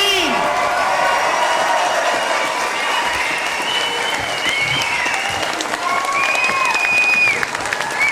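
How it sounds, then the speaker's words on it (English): A crowd at a 2013 NORPAC graduation ceremony applauds the graduating class, with loud, sustained clapping mixed with cheers and a few whoops, and voices and whistles riding over the steady roar. "I'd like to ask you to join us in a resounding round of applause for the NORPAC graduating class of 2013."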